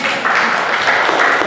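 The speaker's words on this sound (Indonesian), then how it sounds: "tepuk tangan untuk kita semua ya" A classroom group claps in applause at the close of a physics teaching session on the Lorentz force, a steady dense patter of hands that fills the short moment without any speech over it.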